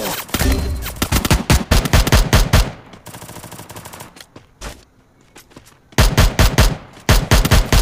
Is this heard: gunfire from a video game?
yes